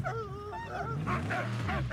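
A dog barks and yips repeatedly in the Mad Max video game, harsh honking barks coming in quick bursts, fairly loud and close, with no talk over them.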